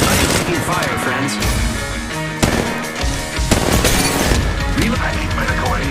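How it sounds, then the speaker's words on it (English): Rapid, dense gunfire in Apex Legends Mobile keeps up a loud barrage for the whole stretch, with sharp cracks and bursts stacked over constant combat noise and brief character callouts. "Opening fire on the enemy."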